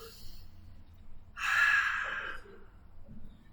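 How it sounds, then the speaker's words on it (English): Deep, audible breathing during a floor stretching exercise, with one big breath in or out about a second long standing out clearly over faint background noise. "Focus on your breathing."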